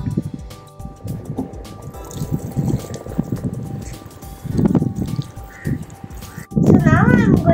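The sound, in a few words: water poured from a watering can onto soil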